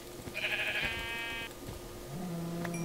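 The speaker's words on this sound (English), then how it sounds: "Oh, there's a sheep." Sheep bleating in the Minecraft video game, a single clear wavering bleat near the middle over steady in-game background ambience, with no talking.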